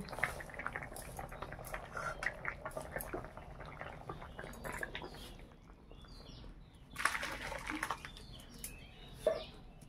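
Sour curry of small puti fish, cooked in a rural Bengali style, simmers in a pot with a steady bubbling wash and scattered soft pops. Occasional louder bursts of clatter rise above the boil, and no one speaks.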